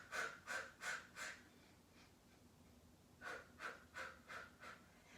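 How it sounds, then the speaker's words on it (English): Staccato breathing during a Pilates mat class: four sharp, evenly spaced puffs of breath, a short pause, then five more in the same pumping rhythm, close and clear with no talking. "It is a staccato breath."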